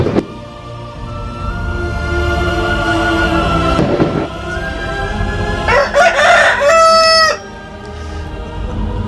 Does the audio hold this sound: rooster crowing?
yes